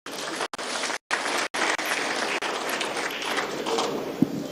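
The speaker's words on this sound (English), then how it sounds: "Can we give another round of applause" Applause from the audience at a university ceremony in Nigeria, a dense, steady patter of many hands clapping at moderate distance, briefly cut by short dropouts.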